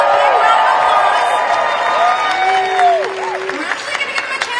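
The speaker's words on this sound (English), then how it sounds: "A big round of applause." A crowd at an outdoor political rally in New York City breaks into applause and cheering, with whoops and rising shouts over the clapping that then tapers slightly.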